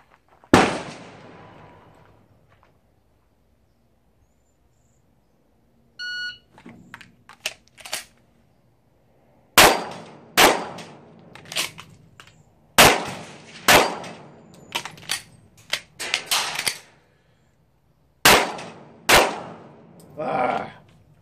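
Live gunfire at a shooting practice range: a first loud shot, then after a pause a run of sharp, loud reports with ringing tails, coming in irregular clusters across the clip.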